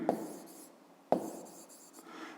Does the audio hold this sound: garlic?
no